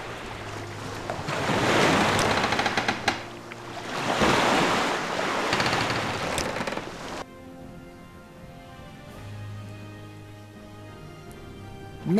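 During a boat ride in Morrowind, surf washes in two broad swells, then drops to a quieter, steady lapping of water with faint wind.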